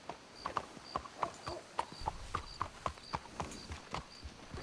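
Horses in Red Dead Redemption II clip-clop at a walking pace, a close, regular run of hoof knocks on hard ground repeating steadily under a faint background tone.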